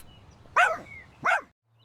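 A dog gives two short, sharp barks about half a second apart, fairly close and clear against a quiet background, with nothing else heard.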